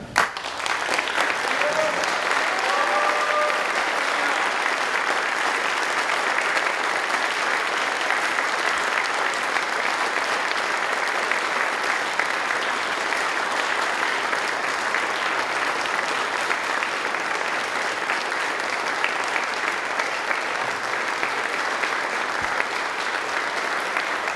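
A graduation audience applauds steadily and loudly for the whole stretch, a dense wash of many hands clapping with a few brief voices near the start.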